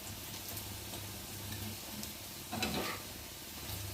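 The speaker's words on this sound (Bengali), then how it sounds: "দেখতেই পাচ্ছ কিভাবে ভাজা হচ্ছে," Potato-greens pakoras fry in hot oil in a pan, a soft, steady sizzle and crackle heard close up and fairly quiet, with a brief louder burst of spattering partway through.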